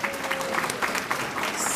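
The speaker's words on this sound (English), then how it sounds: "Let's give Olga another round of applause." Audience applauding after a women's housing initiative session, a steady patter of many hands clapping at moderate distance, with a faint tonal hum underneath and no talk.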